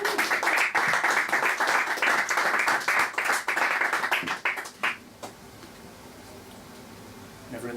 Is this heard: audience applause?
yes